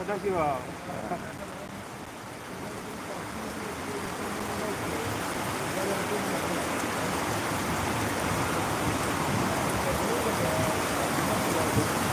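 Steady rain falls in a broad rushing wash that grows slightly louder, with a brief voice-like murmur at the very start.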